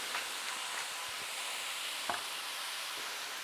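Ground meat sizzling in a hot pan for Sloppy Joes, a steady soft hiss and crackle with a few faint taps and stirring clicks, fairly quiet and with no talk.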